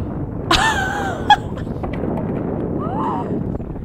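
A horse gives a sharp whinny, then a brief softer whinny follows, over steady outdoor rumble and wind-like noise.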